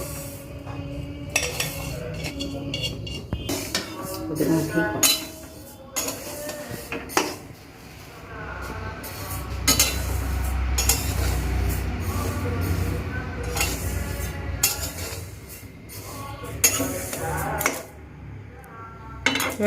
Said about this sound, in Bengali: কড়াটা গরম হয়ে গেছে এবার আমি ডালটা অল্প করে ভেজে নেব